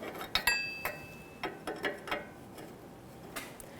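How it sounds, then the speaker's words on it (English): A wrench snugging a downstream O2 sensor into the exhaust of a 2007-2017 Jeep Patriot 2.4L, giving a handful of sharp, close metallic ratchet-like clicks spaced irregularly, with quiet gaps between. "we'll just snug it up with the wrench and then get it good and nice tight with that socket"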